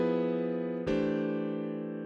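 Sustained chord containing a minor second, struck once and then re-struck with a sharp attack partway through, ringing steadily and fading slowly, played alone with no talking.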